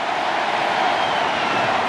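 Crowd at a Limerick versus Clare Munster hurling final roaring in support of their team, a steady, dense wall of cheering noise with no distinct breaks.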